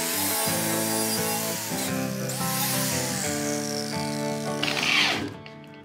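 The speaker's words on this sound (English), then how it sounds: "Using a relatively coarse wire wheel because I want to just get rid of all that loose rust" A coarse wire wheel on a grinder strips loose rust from the wiper cowl cover of a 1962 Cadillac Series 60 Fleetwood, a loud steady whirring scrape with a rising harsh burst near the end before it cuts off.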